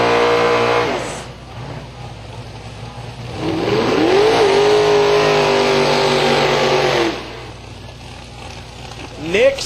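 Drag racing cars at Silver Dollar Raceway scream through hard, rising revs in two loud bursts separated by a lull, each pass climbing in pitch before cutting off, with a voice briefly over the noise.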